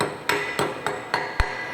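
Five sharp metallic hammer taps chip slag off a 1F tee joint fillet weld, evenly spaced and close, each ringing briefly.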